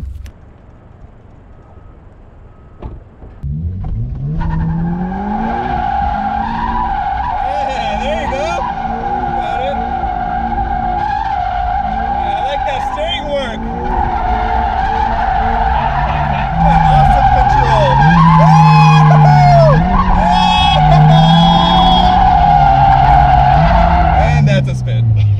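A car drifts with its engine revving hard and tires skidding and squealing loudly and continuously for over twenty seconds, growing louder toward the end, with voices briefly heard over the noise.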